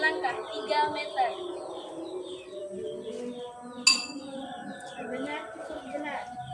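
A spoon taps a bowl once from a few meters away, a faint short clink amid outdoor background with birds chirping and people talking nearby.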